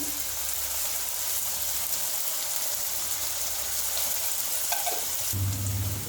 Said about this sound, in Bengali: ভালো করে পেঁয়াজটা ভাজতে হবে।